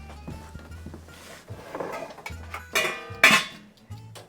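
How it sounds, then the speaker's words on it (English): A lid is set onto a cooking pot after the heat is turned off, with scattered clinks and clatters building to a couple of sharper metallic knocks near the end, close by and without talk. "We're turning this off, and we need to cover that with a lid."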